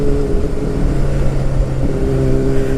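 A Honda CBR motorcycle engine at around 3,000 RPM, nearly 120 decibels, with the turn signal on, makes a loud, steady, close-up drone with a slight pitch dip and recovery, continuous throughout.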